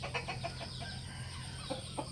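Young fighting cocks cluck softly in short, scattered bursts against a steady hum of background noise, moderately close, with no voices.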